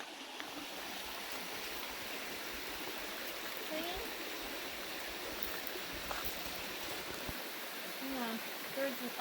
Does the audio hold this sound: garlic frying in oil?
no